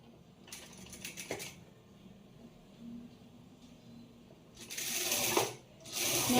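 A sewing machine with a single presser foot stitches piping onto a blouse lining in short bursts, two loud runs separated by quieter mechanical clicking, close up with no talking.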